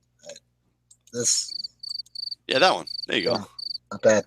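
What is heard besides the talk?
cricket chirping sound effect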